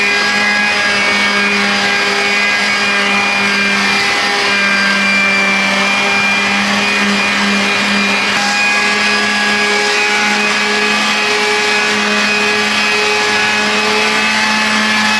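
A small outboard boat motor on a fiberglass boat, hooked up to a battery, runs continuously at close range, giving a loud, steady whining hum with no talking.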